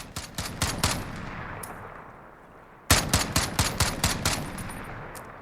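An MK 14 EBR rifle firing in Call of Duty Modern Warfare: a rapid burst of sharp, loud shots with a decaying tail, a brief pause, then a second, louder string of quick shots.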